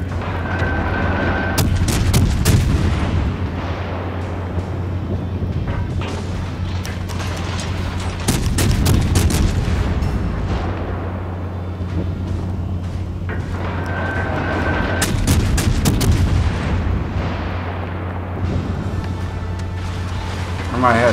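Naval gunfire from warships in World of Warships Legends: repeated loud booming salvos in clusters over a steady engine and water rumble, with a voice talking over the battle.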